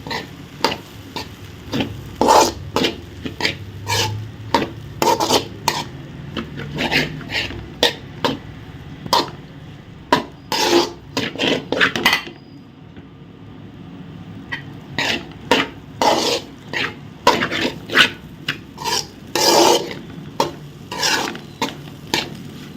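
Egg masala rice gets mixed in a pan with a spatula, giving repeated scraping and clattering strokes in an irregular rhythm over a low sizzle, with a brief quieter pause midway.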